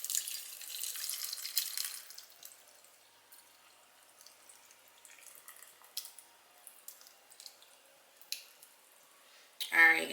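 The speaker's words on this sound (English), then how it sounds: "And then we're just gonna pour the liquid in here just to fill it up." Liquid for pickling pours into a jar of potatoes, a soft, faint trickle and splash that fades into scattered drips, then a louder clink near the end.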